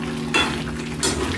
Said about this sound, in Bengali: এবারে এটাকে নাড়াচাড়া করা হবে যতক্ষণ না সেদ্ধ হচ্ছে।